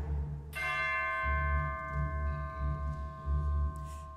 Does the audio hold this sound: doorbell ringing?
yes